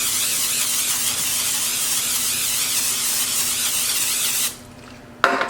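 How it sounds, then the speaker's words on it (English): Extra virgin olive oil spray mists over sweet potatoes in a steady, continuous hiss that lasts about four seconds, then stops, followed by a quiet gap and a short final burst of spray. "You want to spray generously with some extra virgin olive oil spray."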